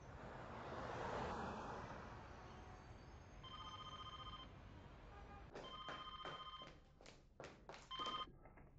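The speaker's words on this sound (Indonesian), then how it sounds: "Telepon Yingsu." Beneath a steady noisy hiss, a telephone rings faintly in bursts, a few clipped electronic tones repeating near the end.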